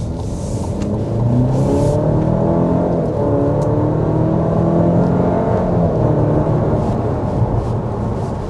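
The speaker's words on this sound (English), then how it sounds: "So that was an acceleration up to about 60 miles per hour." A 2024 Cadillac XT4 with a 2-liter turbocharged four-cylinder accelerates hard up to 60 mph. The engine drone rises steadily and sounds loud and sustained from inside the cabin, with no talking.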